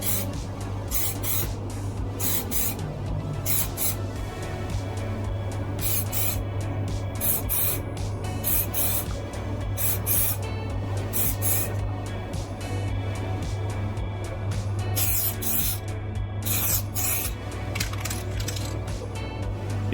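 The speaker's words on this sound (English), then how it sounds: "alternate between spraying on a thin layer and allowing it to evaporate completely" NeoChrome chrome effect paint sprayed onto a wheel rim in a series of short hissing bursts with pauses between them, fairly close, over a steady low hum.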